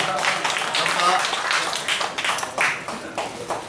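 An audience at a singer's fan club launch event breaks into applause, a dense wash of clapping that thins into scattered claps, with a voice speaking over it.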